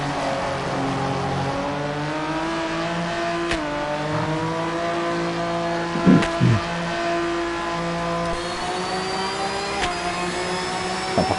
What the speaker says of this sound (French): L'Aston, on entend très bien le bruit du moteur aussi.